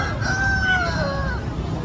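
A free-range village rooster crows once at a busy outdoor chicken market on Simeulue Island in Aceh during the Meugang festival, a clear drawn-out call over a dense crowd murmur.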